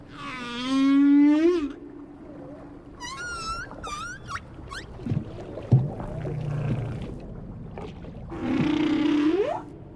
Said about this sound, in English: dive down to a singing whale.